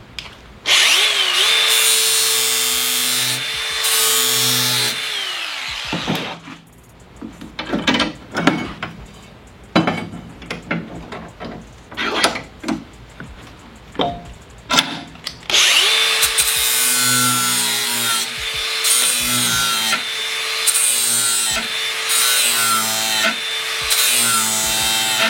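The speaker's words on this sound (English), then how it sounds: "And let's go sharpen some lawnmower blades." An electric bench grinder sharpens steel lawnmower blades in a workshop, giving a loud, steady whine that runs for several seconds, breaks into uneven bursts of grinding contact, then returns as a long sustained drone.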